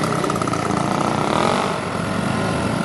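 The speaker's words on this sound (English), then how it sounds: "And Peter Wells looks just the part as he coaxes 98 cc's of ancient Villiers engine round the arena." A 1936 Wright-Craft scooter car built by the British Motorboat Company runs on its 98cc Villiers engine, a steady, busy two-stroke buzz that stays loud and close throughout with no voices over it.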